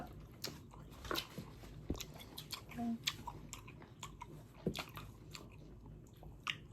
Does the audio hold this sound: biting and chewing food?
yes